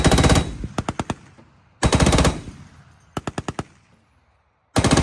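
Loud bursts of gunfire from a Ukrainian border guard mobile fire group shooting at Shahed drones: a heavy blast followed by several rapid shots, repeated three times with short pauses between volleys, no voices.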